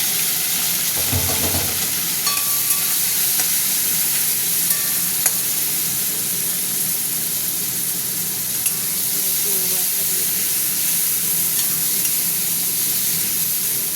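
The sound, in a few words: prawns frying with onions in a pan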